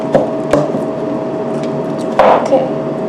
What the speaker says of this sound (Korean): 삼겹살을 잘게 썰어서